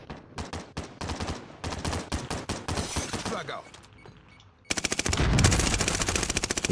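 Rapid bursts of automatic gunfire from Call of Duty Warzone crackle in quick strings, pause briefly, then resume as dense continuous fire, loud and close.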